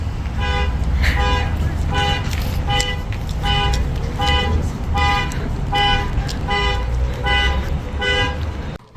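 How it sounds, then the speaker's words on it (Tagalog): A car alarm blares nearby in snowy Calgary in a repeating rhythmic pattern of electronic tones, about a dozen pulses, over a low background rumble. "Ingay na nag-alarm."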